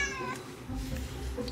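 A cat gives a brief drawn-out meow close by at a door, a single short call with a little background noise.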